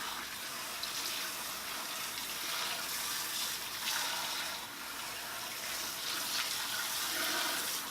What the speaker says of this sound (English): So we're just gonna make sure we rinse it out thoroughly.